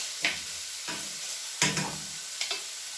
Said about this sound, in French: maintenant, je vais faire revenir l'oignon